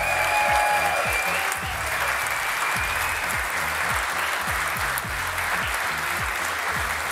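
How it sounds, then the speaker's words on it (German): A studio audience at a live German sports show gives loud, sustained applause, a thick, even roar of many hands clapping that carries on for several seconds without talk. "Kommt noch mal einmal Applaus für euch"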